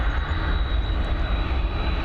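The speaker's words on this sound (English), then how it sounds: "The A320 heading over to Munich." A Lufthansa Airbus A320 jet departs Dublin Airport with a broad, steady engine roar, loud and continuous with deep rumble and a thin high whine on top, no voices.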